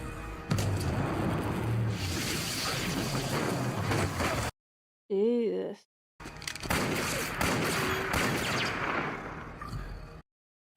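Gunfire in the TV show Grimm, dense booming shots mixed with voices and score, broken by a short silent gap, a brief tonal passage, then more loud blasts.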